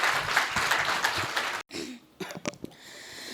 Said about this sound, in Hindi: उसके सम्मान में आप इतनी तालियां बजा दीजिए